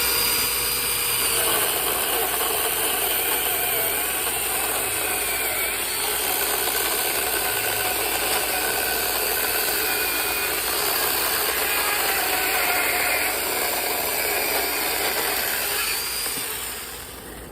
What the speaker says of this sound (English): How does this mini chainsaw work on a log like this?